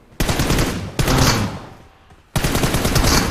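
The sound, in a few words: AKM gunfire in a video game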